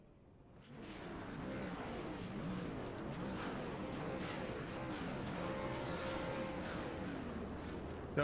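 Race car engines drone in a NASCAR-style truck series racing game, a steady layered buzz of several motors rising in after a quiet start and holding loud, with slight pitch shifts as vehicles run.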